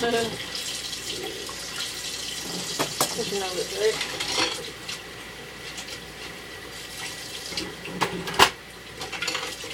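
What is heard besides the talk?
washing dishes under a running kitchen tap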